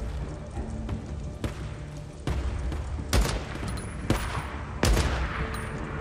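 Gunshots ring out in Days Gone during a firefight with hostile human enemies, including a sniper: sharp cracks and bursts spaced through the scene, several of them loud and close, over steady background ambience.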